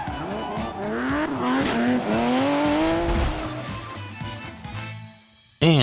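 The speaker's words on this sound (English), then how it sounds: "And drives his car into the lake." In a film scene, a car is driven into a lake: a continuous roaring engine with whining, squealing tires and skidding across several seconds, loud and close, ending in a brief muffled gap and then a sudden burst.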